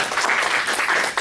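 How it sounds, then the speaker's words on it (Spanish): A church congregation breaks into brief, dense applause, a steady wash of many hands clapping together at close range. "Pues denle un aplauso al Señor."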